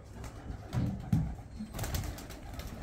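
Breeder pigeons in a loft give soft, low cooing calls, two or three close throaty coos over a quiet background.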